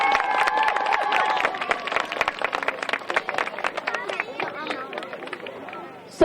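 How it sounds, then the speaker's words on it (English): A crowd at a character kickoff event claps and cheers for a flight nurse being introduced, with dense clapping throughout and voices mixed in, thinning toward the end. "can you give her a big wave and a round of applause?"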